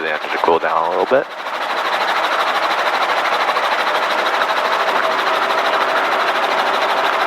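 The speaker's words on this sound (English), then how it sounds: "Just wait for the engine to cool down a little bit." A helicopter engine runs steadily as it cools down after hovering practice, a dense, even whine and rumble that continues without change after a short burst of speech at the start.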